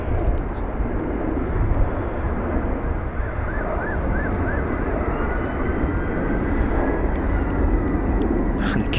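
A British Airways Airbus A320neo jet arrives at London Heathrow from Lisbon, its engines a steady broadband roar with wind buffeting the microphone and a faint whine drifting through.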